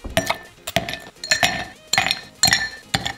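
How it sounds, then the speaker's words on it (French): Small ice cubes dropped into a cocktail mixing glass, giving about six bright, sharp glassy clinks in irregular bursts, close and fairly loud, with no talking. "Maintenant on se met des petits glaçons dans notre verre à mélange."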